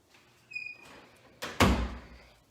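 A house door opens out to a shared common area beside a kitchen and pantry, giving a brief rattle and then a firm, fairly close thunk of the door moving.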